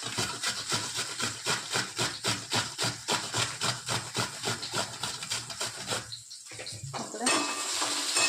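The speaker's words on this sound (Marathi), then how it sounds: "काकडी किसून घेत आहो काकडी किसून घेत आहो" Cucumber being grated by hand for a cucumber and onion flatbread; fast, regular rasping strokes repeat steadily and close up for about six seconds, then pause before a brief clatter and steady background noise.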